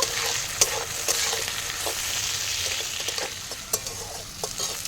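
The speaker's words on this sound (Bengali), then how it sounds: "এবার আমি দিয়ে দেবো কুচানো বাঁধাকপিগুলো বাঁধাকপিটা আমি নেড়ে চেড়ে নেব" Chopped cabbage frying with onions in a pan for an egg and cabbage curry, a steady loud sizzle broken by repeated spatula scrapes and taps as it is stirred, with no talking.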